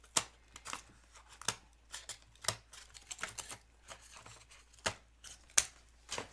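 Scissors snip paper in a string of sharp, irregular cuts, some crisp and close, with short pauses between them.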